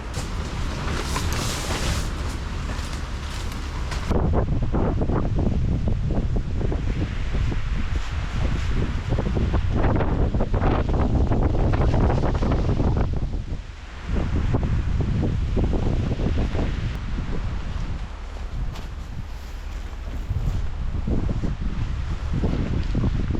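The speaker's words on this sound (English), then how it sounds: "It is windy, guys." Strong, gusty wind roars and buffets the microphone throughout at an off-grid tiny house cabin build site, with a broad rushing noise that rises and dips but never stops.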